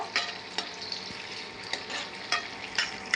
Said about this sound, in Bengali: পেঁয়াজটা আমি কিছুক্ষণ ভেজে নেব।